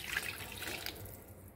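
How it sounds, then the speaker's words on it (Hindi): Water poured into a pot of beef paya seasoned with turmeric, chillies and salt, a soft, continuous splashing pour heard close and fairly quiet. "ऐड करके इसमें मैं डालूँगी पानी"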